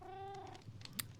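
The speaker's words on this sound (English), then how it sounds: "I have a couple of kitties" A single cat in Minecraft gives one short meow, quiet and close, followed by faint soft clicks.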